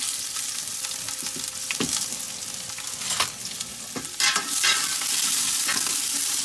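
Onion and garlic fry in oil in a steady, close sizzle, broken by scraping stir strokes and small bursts as the pan contents are moved around.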